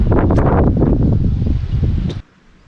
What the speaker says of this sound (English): I'm gonna wait this out and see if this wind dies down at all